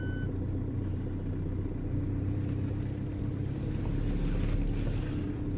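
A Land Rover Freelander with an automatic gearbox idles steadily, a low, even engine rumble with some wind noise, continuous and close throughout with no voices.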